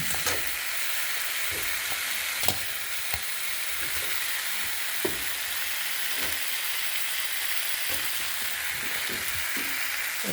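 Cauliflower being stirred with spice paste in a pan over a village cooking fire, a continuous loud sizzle with intermittent scrapes and knocks of a spoon against the pan.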